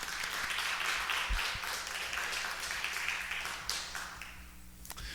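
A church congregation applauds during a Sunday service, a continuous moderate wash of many hands clapping together that gradually thins toward the end, over a low steady hum.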